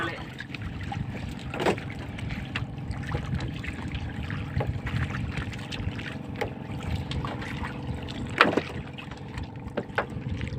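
A boat with a broken-down engine is towed across open sea by another vessel, with a constant low engine drone and rushing water, plus a few brief splashes and knocks.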